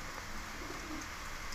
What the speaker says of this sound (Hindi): अपने कबूतर का बच्चा है